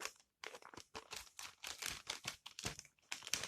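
Plastic bag holding a seed wrapped in wet tissue is handled and closed, giving a run of close, crisp crinkling and rustling bursts with short pauses between them.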